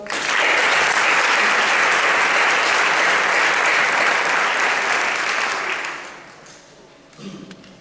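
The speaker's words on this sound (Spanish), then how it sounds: "Un aplauso, por favor." Sustained applause from an audience at a school concert honouring a guest, loud and steady for about six seconds before fading, with a few faint scattered claps and murmurs at the end.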